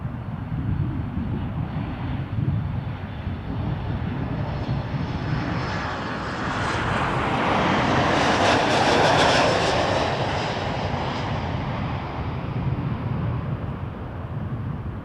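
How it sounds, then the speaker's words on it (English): A Boeing 737 MAX 8 arriving from Vancouver lands at Toronto Pearson, its jet engine roar and rushing air swelling loud as it passes close, then easing off into a broad steady rumble. "602, 737 MAX 8 coming in from Vancouver."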